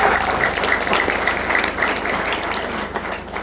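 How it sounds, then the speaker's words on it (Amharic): A church audience applauding students honoured for top ranks, with sustained, dense clapping from a crowd at close range, steady throughout without pause. "አጨብጭቡላቸው እስኪ"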